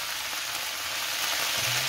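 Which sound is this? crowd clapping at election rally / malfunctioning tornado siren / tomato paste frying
tomato paste frying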